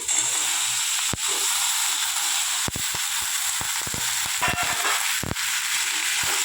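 Okra and potatoes frying together in a pan, a steady loud sizzle with scattered sharp clicks and taps from stirring, no talk.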